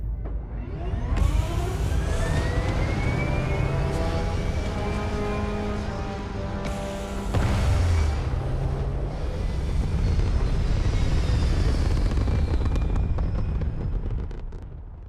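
A spaceship lifts off in the video game Starfield, a loud sustained roaring rumble with rising whining engine tones that swell and surge in waves over about fifteen seconds, with no talking.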